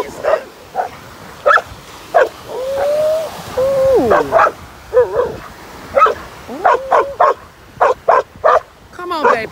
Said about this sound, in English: He barking at something.